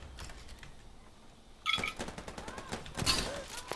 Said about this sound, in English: You hear my shotgun?